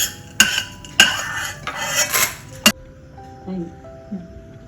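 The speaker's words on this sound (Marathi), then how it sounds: "हरभऱ्याची डाळ भाजून घ्यायची. हे सुद्धा खरपूस भाजून काढून घ्यायचं आहे." Chana dal roasting in a pan while being stirred for curry leaf chutney, with sharp metallic clinks of a spoon against the pan and gritty scraping bursts of dry lentils, then a quieter stretch with brief talking.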